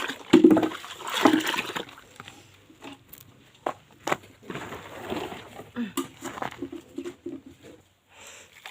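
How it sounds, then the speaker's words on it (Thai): Water is scooped and poured over potted plants by hand, giving a burst of splashing and pattering at the start, then intermittent trickles and drips, close by. "เดี๋ยวเราตักลาดไปเลยนะคะ"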